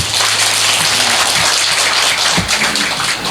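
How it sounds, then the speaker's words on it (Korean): Sustained, fairly loud applause from an audience at a book talk concert, dense rain-like clapping filling the whole stretch with no voices. "박수 한 번 더 부탁드리겠습니다."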